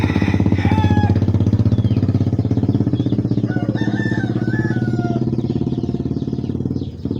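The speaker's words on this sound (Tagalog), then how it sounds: "Manok ng kapitbahay niya." A rooster crows loudly and close, a long drawn-out call, with other fowl clucking and a low engine rumble in the background.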